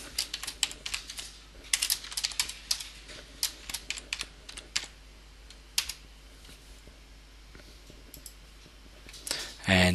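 Clicky bursts of keystrokes on a computer keyboard as an operator code is entered, irregular and close, with pauses between short runs and a louder knock at the end.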